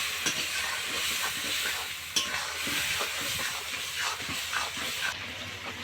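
Country chicken meat with spices cooking in a pot, a steady close sizzle and hiss broken by the scrape and clatter of stirring, with no talk.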